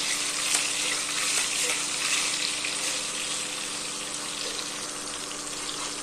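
Coriander frying in cumin in a pan for pyaz masala bhindi, a steady close sizzle that stays loud and even throughout, with no clear breaks.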